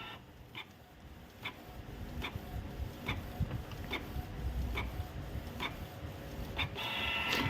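A Canon inkjet printer runs a test page after head cleaning, its carriage sliding back and forth in regular sweeps with sharp clicks at each pass over a steady mechanical hum, close and fairly loud.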